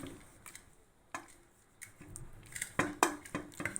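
Pumpkin pieces mashed into cooked lentils with tamarind in a pot, heard as irregular close scrapes, soft squishes and metal clinks of a utensil against the pot, growing busier toward the end.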